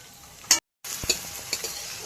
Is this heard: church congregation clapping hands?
no